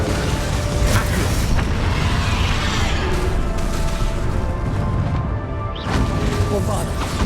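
Bombarda blasting spell explosions in the video game Hogwarts Legacy, dense crashing booms and smashing bursts layered over a loud, continuous battle roar, with a brief dip before another blast near the end.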